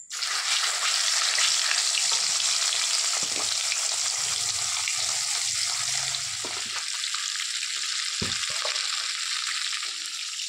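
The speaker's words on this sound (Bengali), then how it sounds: "বাকি মাছগুলো ভেজে নেবো।" Fish fries in hot oil with a loud, continuous close sizzle, interrupted by a few brief clatters of stirring or turning the pieces, with no talk.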